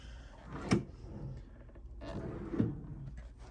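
A hotel room bedside drawer slides and bumps shut twice, two distinct close wooden knocks about two seconds apart, with quiet room noise between them.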